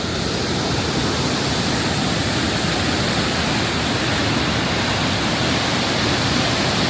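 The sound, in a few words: water pouring down at Blyde River Canyon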